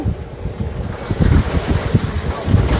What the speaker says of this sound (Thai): ซุปเปอร์ลม